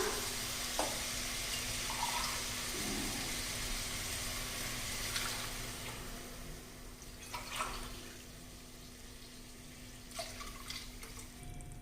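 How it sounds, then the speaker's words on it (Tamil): Water and coconut milk pour into a cooking pot for one-pot coconut milk ghee rice, a soft steady splashing stream that tapers off, followed by a few faint clinks, no speech. "இப்போ நம்ம ஒரு டம்ளருக்கு ரெண்டு டம்ளர் அளவுக்கு தண்ணி சேர்த்துக்கலாங்க"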